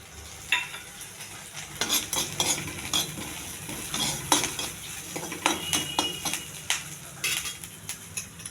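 Green chilli pieces frying in a pan while a metal spoon stirs and scrapes, giving soft sizzling broken by repeated clinks and knocks against the pan, close and fairly quiet.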